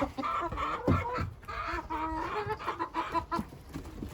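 Several chickens, including a village hen and a Sultan-cross hen, cluck and murmur close by in an uneven, continuous chatter, with no talking.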